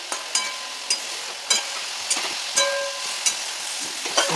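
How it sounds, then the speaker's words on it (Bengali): Okra and potatoes cooking with spices in a pan give off a steady sizzle, broken by rhythmic scraping stir strokes about every half second, close and fairly loud with no talking. "এই যে সমস্ত তরকারিগুলো কষিয়ে নিচ্ছি"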